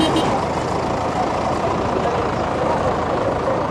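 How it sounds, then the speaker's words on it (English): Tractors and trucks in a Suffolk Christmas light parade rumble steadily as they prepare to set off, a dense continuous engine drone with a possible reversing beep, loud and close throughout. "we've got tractors, we've got trucks, we've got all sorts just about to set off through the heart of Suffolk"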